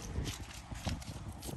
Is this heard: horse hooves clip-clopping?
yes